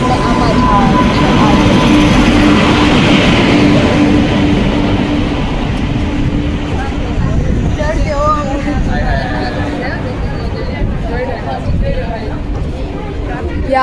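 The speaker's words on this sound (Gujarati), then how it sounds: "ફાઇનલી જો હવે આપણે છે ને ટ્રેન આવવાની જ છે." A passenger train pulls into a busy railway station in Gujarat, its loud, rolling rumble building and then easing off, while people talk nearby over the noise.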